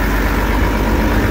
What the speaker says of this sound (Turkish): Motor sesi gayet sağlıklı geliyor.